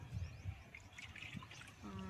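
Water pours from a metal pot in a garden, a short uneven trickle and splash heard close by, with a steadier flow near the end.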